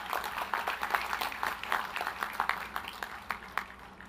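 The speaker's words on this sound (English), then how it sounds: "So you can applaud them if you'd like" Light applause for college faculty and staff ripples from an audience, a modest, fairly distant patter of clapping that fades gradually over a few seconds.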